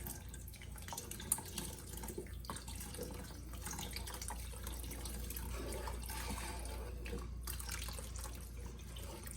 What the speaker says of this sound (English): So I have 3 cups of whole milk, and I'm going to slowly pour it into the chicken broth mixture.